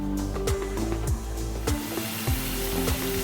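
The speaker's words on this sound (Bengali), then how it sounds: "মশলাগুলোকে খুব ভালোভাবে মিক্স করে নিব" Ground spices with nut paste stirred and fried in a pan, steady sizzling under repeated rhythmic scraping and clinks of a spoon against the pan, close and moderately loud.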